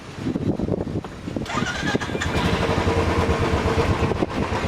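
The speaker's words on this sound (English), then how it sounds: "Now start the engine." A motorcycle with an idling problem has its idle screw adjusted, then its engine cranks and starts, settling into a steady close idle after an earlier low mechanical rumble.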